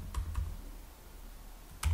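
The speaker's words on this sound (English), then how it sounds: "I type my password." Soft keystrokes on a computer keyboard as a password is typed: two light taps, a pause, then another quick cluster of keys, quiet and close with no talking.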